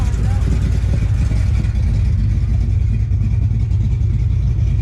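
An Oldsmobile Cutlass with a swapped 455 engine idles close by, a loud, dense, continuous low rumble with a steady churning pulse and no break.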